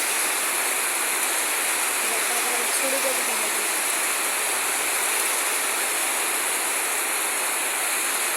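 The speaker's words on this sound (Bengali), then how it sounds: "খুব বৃষ্টি হইতেছে।" Dense, steady hiss of heavy rain pouring down without a break, a broad roaring wash of sound, with a faint voice briefly underneath.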